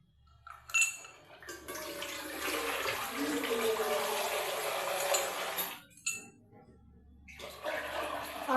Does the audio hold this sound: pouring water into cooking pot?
yes